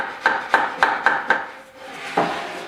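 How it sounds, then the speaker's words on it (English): Five quick evenly spaced knocks of a hammer on a wooden basement window jamb, then a pause and one more tap, close and fairly loud with no talking. "just tap it with a hammer."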